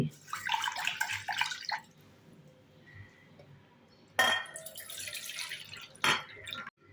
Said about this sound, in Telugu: 1 కప్పు బియ్యం తీసుకొని శుభ్రంగా వాష్ చేసుకోవాలి.